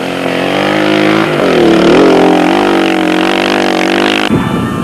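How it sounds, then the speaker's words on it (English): Loud racing motorcycles and cars roar past at speed during the 1995 Toyota 1000 race, pitch sweeping as vehicles approach and recede, with a sharp change near the end as another passes. "the motorcycles and cars constantly racing past provided plenty of spectacular entertainment"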